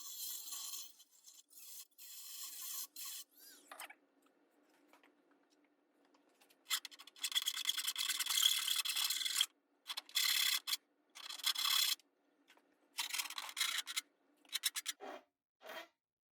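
Rasping and scraping as the plastic bottom plate of a Snapper snowblower housing is trimmed down, in irregular bursts of rubbing strokes separated by quiet pauses, close and fairly loud with no talking.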